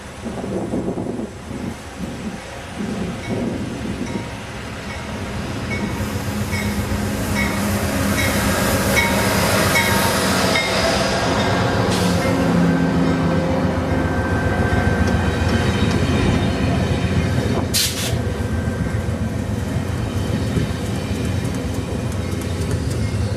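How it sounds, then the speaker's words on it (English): A train pushing snow off the tracks roars past continuously, a heavy rumbling rush with rattling and hissing, loud and close throughout with a sharp burst partway through. "Saw that train clip where the snow was literally pushed back onto the tracks."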